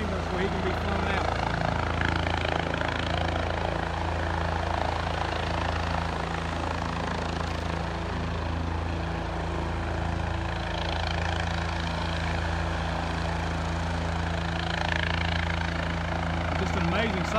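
A rescue helicopter working as an air ambulance at an ATV crash scene roars steadily and loudly for the whole stretch, its low rotor thump continuous, with voices faintly audible beneath.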